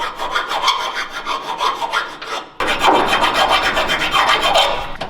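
File rasping back and forth over a sharp metal edge to deburr it during custom fabrication on a Nissan Z drift car, rapid rhythmic strokes close up and loud, a brief pause midway, no talking.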